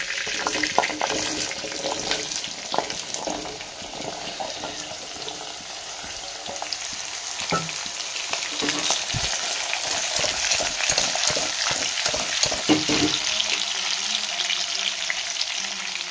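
Curry leaves and raw papaya pieces fry in hot oil with a steady close sizzle, broken by stirring scrapes and spattering bursts throughout.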